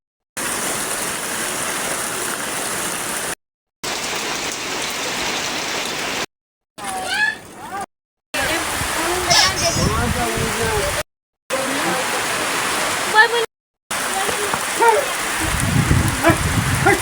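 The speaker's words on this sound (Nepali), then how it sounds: "अहिले यो पानी आउने हो बा" Heavy rain pours steadily in Barekot Rural Municipality, Nepal, a dense broadband hiss broken by several abrupt cuts, with voices talking over the downpour in places.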